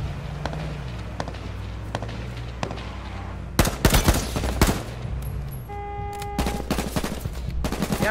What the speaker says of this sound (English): Shot at. Those dudes have an LMG.